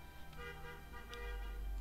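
A car horn honks outside while a Mount and Blade Warband game session is being recorded, giving a few faint, distant toots over low rumbling background noise.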